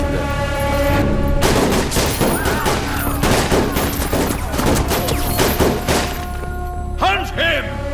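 A gunfire volley from a Hindi action movie, a dense sustained barrage of loud shots and thuds filling the whole stretch, with voices and music mixed beneath.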